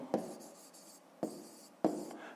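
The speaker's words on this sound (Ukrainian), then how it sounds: "записуємо тоді відповідь, пишемо відповідь" A pen writes a math answer by hand on paper, faint close scratching with three light taps as strokes begin, alone without talk.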